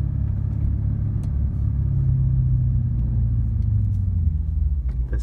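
A Lexus IS F drag racing a BMW M3 at a drag strip, heard as a steady, loud low engine rumble from inside the car with road roar and no talking.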